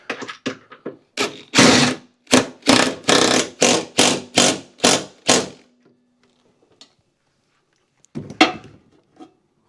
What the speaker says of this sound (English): Just going to use a long ratchet